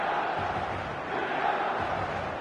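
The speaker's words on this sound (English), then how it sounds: "An intimidating atmosphere in the crowd, a crowd so close to the pitch here in this old-style stadium, the Gewiss." Crowd atmosphere at the Gewiss stadium, an old-style ground with fans close to the pitch, in eFootball: a dense, continuous roar of chanting and shouting voices, steady and fairly loud throughout.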